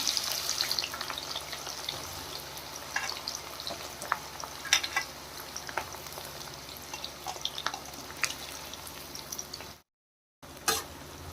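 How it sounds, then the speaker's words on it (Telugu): Onions frying in heated oil for Hyderabadi mutton dum biryani, a steady moderate sizzle with occasional stirring clinks and scrapes, nearby and unbroken until a short dropout near the end; no speech. "ఆయిల్ అయితే హీట్ అయింది ఉల్లిపాయలు అయితే ఫ్రై చేసుకుంటున్నా"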